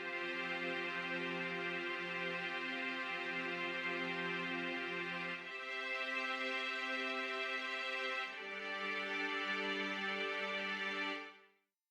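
Warm string section chords from the Xenology plugin in FL Studio, sustained layered tones for an Afro highlife beat changing chord twice before fading out, with no voice.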